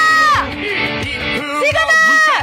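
A crowd at an outdoor political rally in Seoul roars and whoops in unison, a loud, sustained shout that swells and surges again, with amplified voices ringing through it.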